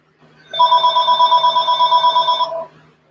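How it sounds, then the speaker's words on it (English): A wireless phone rings with an incoming call: one continuous, loud, warbling electronic ring that lasts about two seconds at close range, then stops, with no talk over it. "Call from wireless phone."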